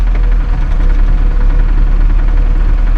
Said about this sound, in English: Did I just spin a rod bearing?